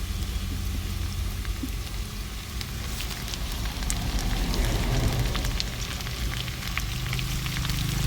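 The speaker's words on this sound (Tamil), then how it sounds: "போதும் வெங்காயம் வதங்குது" Onions sizzle and crackle steadily in a hot pan for a spicy okra tamarind curry, a continuous close frying hiss with scattered pops throughout.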